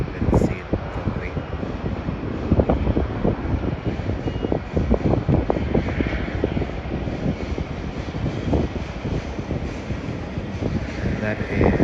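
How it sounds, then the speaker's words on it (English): A Cathay Pacific Boeing 777-367 airliner departing Melbourne airport, its engine roar a broad continuous rumble under wind buffeting, with people talking over it throughout. "that is a Boeing 777-367"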